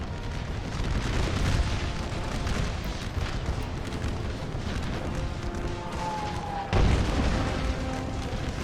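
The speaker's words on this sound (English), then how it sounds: "Southern artillery is just doing wonders here" Southern artillery batteries fire from set positions in a Civil War strategy game, Total War: American Civil War, a dense continuous rumble of distant booms with one heavier close blast near the end, loud and unbroken, no talking.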